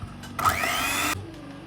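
Electric mixer whisking cake batter with eggs, a steady whirring drone lasting under a second, close and fairly loud, with quieter kitchen noise before and after.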